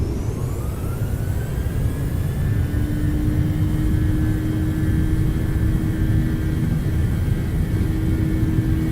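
Airliner jet engines spooling up on a takeoff roll in the X-Plane 11 flight simulator, a steady loud roar with a rising whine and a sustained tonal drone, running continuously without voices.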